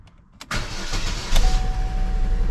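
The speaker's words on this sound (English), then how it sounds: "I'm going to show you how it's running. I'm not going to run it long because it is running very rough." A 2012 Chevy Sonic with a random misfire starts after a short crank. It then runs loud and close with a rough, uneven idle.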